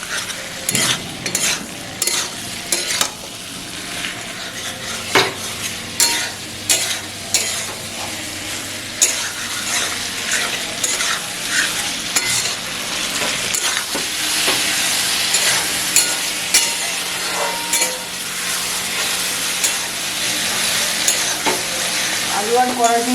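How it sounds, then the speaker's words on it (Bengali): Small potatoes and green peas are stir-fried in spiced oil in a pan, with a utensil scraping and knocking rhythmically against the metal over a continuous loud sizzle. "এবার আর কিছুক্ষণ আমি কষাবো।"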